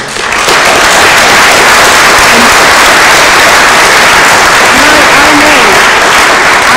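A crowd at a People's Vote rally in Coventry applauds loudly and continuously, a thick wash of clapping that swells in quickly and holds at full strength throughout.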